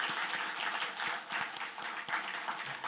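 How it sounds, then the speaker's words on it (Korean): Audience at a Bible reading lecture clapping together, a fairly steady burst of many hands filling the room for a few seconds with no voices. "서로 격려하는 마음으로 박수 한번 할까요?"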